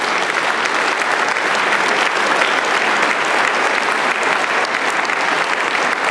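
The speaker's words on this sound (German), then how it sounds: "Applaus" Applause from an audience at a university anniversary ceremony in Regensburg, a dense, steady clapping of a large crowd that holds loud and unbroken throughout.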